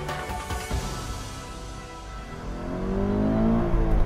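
A 2017 Toyota GT86's engine revs hard, a loud, close, continuous roar that dips slightly and then climbs in pitch and volume toward the end, with no voices.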